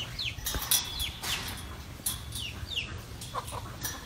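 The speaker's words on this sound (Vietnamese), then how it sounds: "mình sẽ coi cái vườn gà nhà mình." Chickens cluck and chirp in a backyard garden coop in the flooded Mekong Delta of Vietnam, with repeated short calls at moderate distance over a steady low background hum and no talking.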